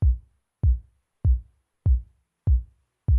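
Six punchy kick drum hits in an even, moderate pulse, each with a short, subtle reverb tail fading before the next, made in FL Studio.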